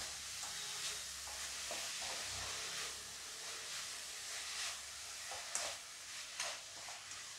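Carrot halwa with sugar being stirred and sautéed in a pan, a faint, steady sizzle with soft intermittent scrapes and stirring strokes close by, no voices.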